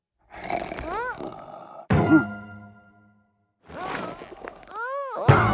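A voice imitates a sheep's loud snoring, drawn-out groaning snorts repeated several times with brief quiet gaps between them, close and prominent.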